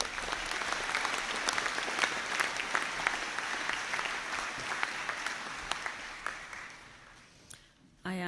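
A graduation conferring ceremony audience applauds, a broad sustained patter of many hands clapping at moderate volume that thins and fades out near the end.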